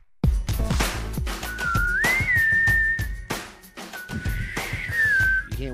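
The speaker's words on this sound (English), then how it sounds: "You're not whistling." A person whistles long sliding tones in two phrases, close and fairly loud, over a busy backdrop of rhythmic clicks and thumps in a radio studio setting.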